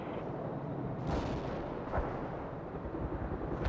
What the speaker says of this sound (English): Стреляю.